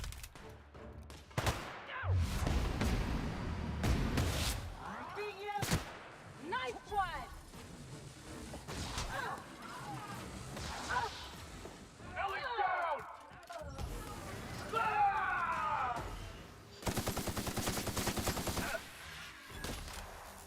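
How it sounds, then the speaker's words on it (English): Gunfire from shock bullets in The Outer Worlds, bursts of shots scattered among other combat noises, with a voice talking over parts of it. "Man, those shock bullets, though, make such a freaking difference."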